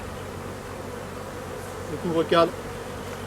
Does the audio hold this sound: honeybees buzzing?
yes